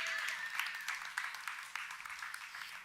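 Faint, distant applause from a church congregation, a continuous patter of clapping at low volume throughout.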